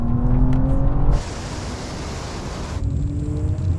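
A BMW M2 and a BMW XM accelerate hard in a rolling drag race from 50 mph, engine drone giving way to a loud rush of wind and revving before settling back.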